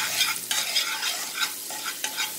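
Onions fry in a pan with a bright, crackling sizzle close up, pulsing with repeated stirring strokes about every half second; no voices.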